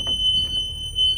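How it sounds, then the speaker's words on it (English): A school bus emergency exit door alarm sounds as one steady, shrill electronic tone, loud and close, lasting the whole brief moment. "Alarm sounds, door swings open freely."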